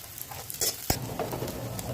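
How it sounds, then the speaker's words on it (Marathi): Onion, crushed peanut flour and chili fry in a pan on an electric chulha, giving a soft, continuous sizzle with faint scraping stirs and a single sharp clink of a utensil. "तर पहिला कांदा असं ब्राऊन भाजून घ्यायचा लाल होतं."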